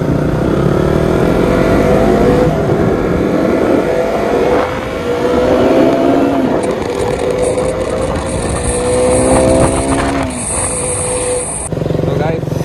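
A serviced KTM Duke 200 BSIII motorcycle on a road test ride, its engine note climbing and falling through the gears with steady road and wind noise, while a voice talks over it.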